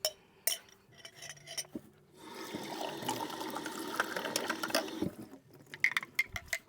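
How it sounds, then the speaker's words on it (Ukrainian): Water runs from a tap into a cooking pot for a couple of seconds, filling it to the top, between clinks and knocks of kitchenware and a lid. "І доливаємо води доверху, накриваємо кришкою"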